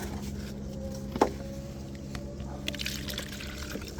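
Water poured out for watering a mango seedling, a short splash followed by soft trickling and dribbling, close by under steady background noise.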